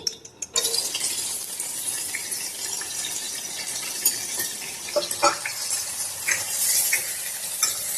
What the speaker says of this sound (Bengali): এখানে কাজু, কিশমিশ, আমন্ড এটাকে আমি একটু ঘিয়ে একটু ভেজে নেব।